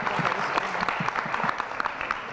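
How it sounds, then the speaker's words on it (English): A studio audience applauds a team at the end of a round on a televised high school quiz show, a steady, moderately loud wash of clapping from many hands with no voices. "let's have a round of applause for our team."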